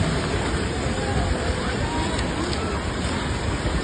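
The flooded Sharda river in Salyan, Nepal, rushes past with a constant, loud, broadband roar of churning water, blended with wind buffeting the microphone, unbroken throughout.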